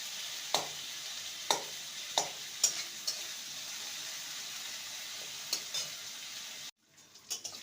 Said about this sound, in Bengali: আদা আর কাঁচা লঙ্কাকে ভালো করে নেড়ে নিতে হবে যাতে করে আবার কাঁচা গন্ধ না থাকে